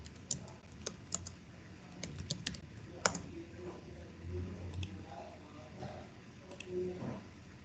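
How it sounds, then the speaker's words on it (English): Typing on a computer keyboard while setting up a connection for a cybersecurity training platform, with irregular close key taps and a few sharper strikes over faint background hum. "so you will be typing"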